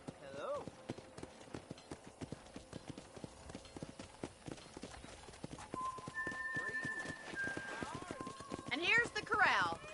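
Horse hooves clip-clop at a steady walking pace in the Red Dead Redemption video game, with game dialogue and background music over the hoofbeats.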